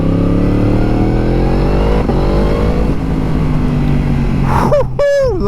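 A Yamaha MT-10 motorcycle engine, 160 hp, roars loudly at high revs, then snaps through quick, crisp quickshifter gear changes with sharp cuts and pops near the end.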